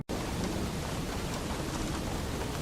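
Heavy rain from a mountain thunderstorm pours down in a loud, steady broadband wash, starting abruptly and holding even with faint low rumbling underneath.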